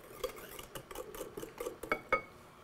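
Hot milk being added to egg yolks while stirring, heard as a run of close clinks and scrapes of a utensil against a bowl, with two sharper clinks near the end.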